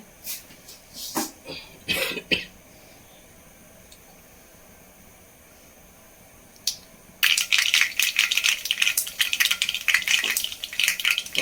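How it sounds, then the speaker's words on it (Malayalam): Mustard seeds hit hot oil in a pan and burst into a loud, dense crackle of rapid pops that continues to the end, preceded by a few utensil clatters and a short quiet stretch. "കടുകൊക്കെ നന്നായിട്ടൊന്ന് പൊട്ടി വരട്ടെ"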